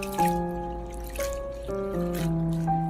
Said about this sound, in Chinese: 然后加1勺盐，再倒入清水，然后用盐水清洗干净